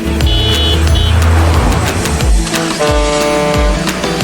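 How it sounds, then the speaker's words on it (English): A car drives past with a revving engine and a brief horn toot, loud and close, over a few seconds with no talking. "C for car."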